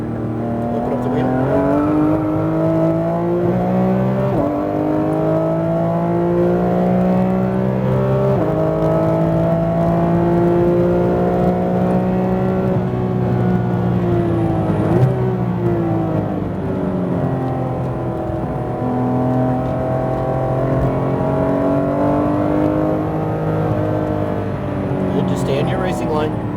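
A Porsche GT3 RS engine howls steadily at high revs on a race track, loud and close from inside the car, its pitch slowly rising and falling, with an instructor talking over it.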